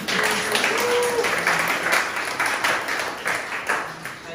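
Concert audience applauding after a violin and cello performance, a dense, steady wash of many hands clapping that holds for several seconds before easing slightly.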